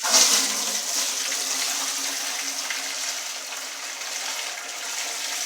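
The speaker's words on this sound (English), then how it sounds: "All I'm using is a jelly bag strainer, and we're going to just pour this in here." Homemade moonshine poured through a jelly bag strainer, giving a steady close splashing and trickling flow of liquid that holds evenly for the whole stretch, with no talking.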